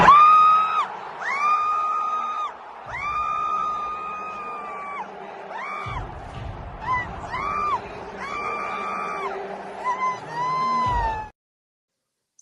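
At WrestleMania in Las Vegas, an arena crowd screams over entrance music: loud, sustained shrieks and whoops rise and fall in long waves for several seconds before cutting off abruptly.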